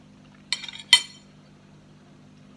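A spoon scraping and clinking against a feijoa (pineapple guava) fruit: a few brief, close clicks and scrapes with short gaps between them, over a quiet low hum.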